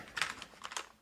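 Clicky mechanical keyboard typed in a few quick bursts of sharp keystrokes, fairly close and alone with no talking.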